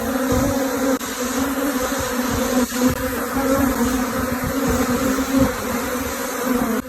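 Japanese honeybees swarming in large numbers outside their hive box, a loud, dense and unbroken buzzing drone close by with slight swells in intensity.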